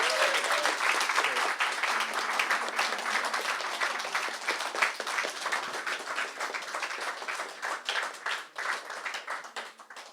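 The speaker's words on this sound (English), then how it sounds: "Let's give him another round of applause." A round of applause from the audience at a YMCA Cork celebration event on the main stage: dense, sustained clapping from a crowd that holds steady and then thins toward the end into scattered claps.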